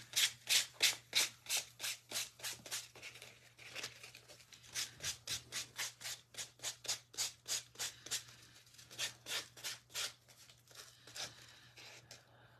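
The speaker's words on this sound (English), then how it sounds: "I'm not giving this a full sand. I'm just scuffing it up to make it look old." Hand-held sandpaper scuffing a wooden reindeer head craft piece, a close, rhythmic series of rasping back-and-forth strokes, steady and repeated, with a faint low hum beneath and no talk.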